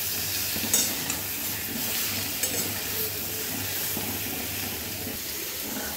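Cauliflower florets frying in a pan, a steady close sizzle with occasional stirring knocks and scrapes, even in level throughout.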